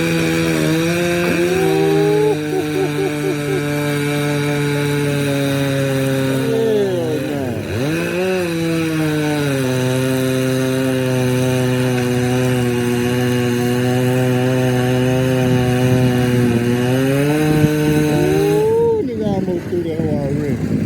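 A chainsaw cuts through pecan wood, its engine holding a loud, steady buzzing drone close by for about twenty seconds, with the pitch sagging briefly under load and rising again near the end.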